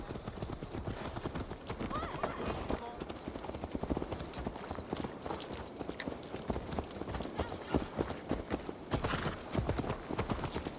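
Horse hooves clip-clop in a rapid, uneven rhythm on the ground in Assassin's Creed Valhalla, close and fairly loud, with an occasional whinny mixed in and voices talking over it.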